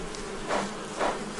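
Honey bees buzz in a steady drone around the hives of a beekeeping farm, swelling briefly twice as individual bees pass close by, with no voices present.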